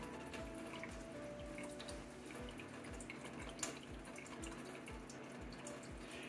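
Water releases from a Camelbak hydration bladder in a steady trickling flow with a regular rhythm of soft drips and gurgles, close and fairly quiet throughout.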